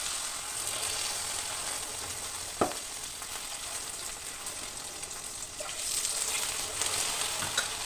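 Continuous bubbling sizzle of unniyappam batter frying in hot oil, nearby, with a sharp clink and a few light knocks from utensils.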